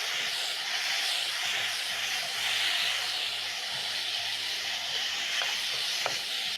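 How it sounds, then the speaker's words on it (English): Carrots and a large tomato sizzling in a pan with golden garlic for peri peri noodles, a steady loud hiss of frying that continues throughout with no talking. "So you're going to cook your tomatoes and carrots for around a minute."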